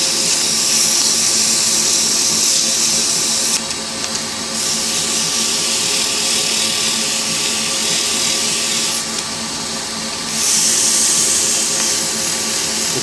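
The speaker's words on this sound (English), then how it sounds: "It's good practice to constantly change sandpaper, because sandpaper actually wears away pretty quickly" A pen blank is sanded with 240-grit sandpaper, likely on a spinning lathe, giving a loud, steady, close hiss and whir that barely changes throughout, with a few brief dips in the rasping.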